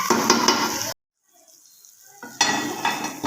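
A Hyderabadi gulati rice dish cooks over a high flame with loud, close sizzling and stirring, which cuts out to near silence for about a second before the frying resumes.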